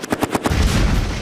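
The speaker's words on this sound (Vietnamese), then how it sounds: "Đây là khẩu súng máy Browning," A Browning 7.62 mm machine gun mounted on a vehicle fires a short, loud burst of rapid shots that blends into a booming roar, close and alone.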